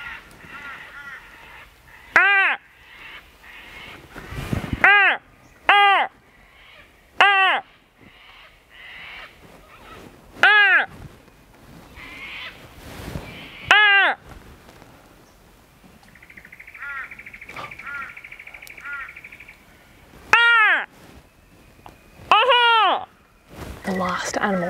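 A person imitates an Australian crow, giving a series of loud, drawn-out, descending caws in short bursts of two or three, spaced by pauses, with a faint sustained whistle-like tone partway through.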